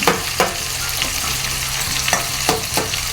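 Large onions sautéing in a pan for Jaffna-style chicken curry, a steady close sizzle broken by several sharp scraping stirs of the spatula, with no voices.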